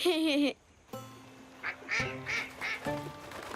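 A few nasal duck quacks, brief and close, separated by short gaps, with one high sliding call at the start.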